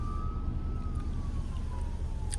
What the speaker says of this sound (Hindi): वो एम्बुलेंस भी अटकी पड़ी है